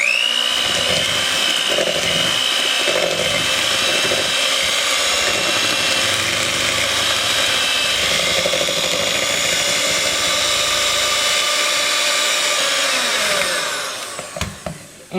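An electric hand mixer whirs steadily at high speed, beating eggs into banana bread batter in a bowl, loud and continuous, then winds down and stops at the end.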